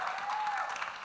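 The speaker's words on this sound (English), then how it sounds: "Yes, let's clap." A crowd claps during a Tribeca Film Festival talk with The Blackening cast and creators, a brief burst of thick, continuous applause from a full audience, steady and fairly loud.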